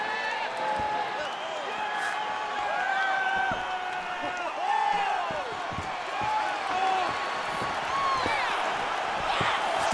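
A capacity arena crowd at a heavyweight title fight in the UFC 6 video game cheers and murmurs steadily, with scattered whistles and sharp claps rising over a busy, continuous roar.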